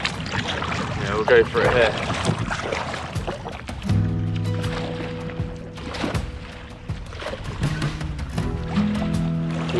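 Canoe paddle strokes and water splashing as the boat heads ashore toward a rocky point on a remote fishing trip, close and dense with some wind, while a person speaks briefly over it.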